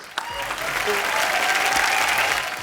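A studio audience on a Hindi comedy show breaks into loud, steady applause with crowd cheering mixed in, clapping evenly for a couple of seconds.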